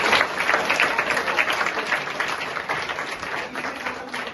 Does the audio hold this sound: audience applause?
yes